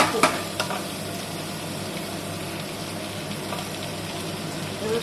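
Vegetables for pav bhaji sizzle and fry in a hot pan while being stirred, a steady close hiss with a few scraping clatters at the start.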